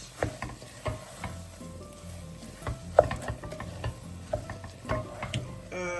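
Basmati rice being stirred into a jollof tomato sauce in a pot, with close, irregular scraping and clicking of the spoon against the pot over a soft simmering sizzle.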